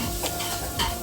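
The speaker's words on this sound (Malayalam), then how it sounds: "ഉള്ളി ചുവന്ന് കേട്ടോ" Onions frying in a pan, a steady sizzle with two soft scraping stirs, close and moderately quiet, no voices.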